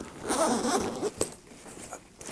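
A zipper drawn along the closure of a ThinkTank camera bag, a close, scratchy rasp in short bursts with brief pauses between pulls.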